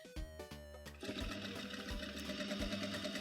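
A sewing machine stitches a seam to taper the legs of pants, running in a steady fast whirring rhythm with a pulsing mechanical hum, close and clear with no voices.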